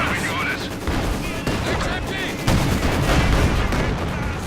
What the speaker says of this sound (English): Another barrage straight into the horde of the master troops here.